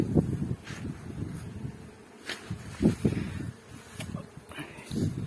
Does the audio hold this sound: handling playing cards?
no